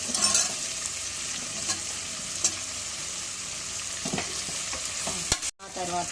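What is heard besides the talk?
curry leaves, onions and green chillies frying in pan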